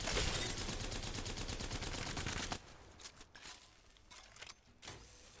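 Havoc rifle in Apex Legends fires a fast continuous burst that then breaks into shorter, quieter bursts, heard alone without talk.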